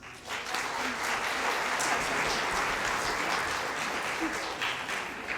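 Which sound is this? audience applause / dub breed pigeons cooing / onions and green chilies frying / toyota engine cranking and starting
audience applause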